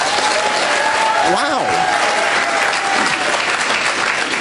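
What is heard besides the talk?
audience applauding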